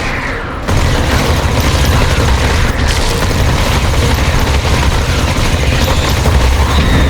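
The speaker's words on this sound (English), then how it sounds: "Base is under attack. One of our walls is being destroyed." A base wall being destroyed during an attack in The Riftbreaker, a loud sustained rumbling roar of blasts and crumbling debris that starts with a heavy boom and continues steadily.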